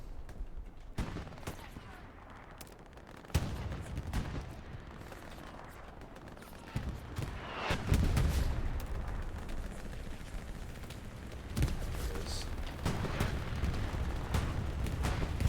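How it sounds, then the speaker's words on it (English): A bombing run in a multiplayer war video game match: heavy booming explosions hit in separate loud blasts about every four seconds, over a steady rumble and scattered gunfire. "There's a bombing run."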